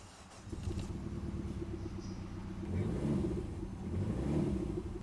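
A crashed Peugeot RCZ with its check-engine light on runs steadily after starting, giving a continuous low rumble that swells slightly partway through, with no talking.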